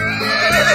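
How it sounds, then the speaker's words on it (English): A horse's shrill, wavering neigh, brief and loud, sounding close by. "Horse."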